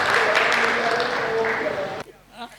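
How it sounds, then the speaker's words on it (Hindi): Audience at a Hindi comedy poetry gathering claps in a brief burst of applause about two seconds long, mixed with voices, then drops away to quieter room sound. "भाई साहब के लिए एक बार तालियां तो बनती हैं"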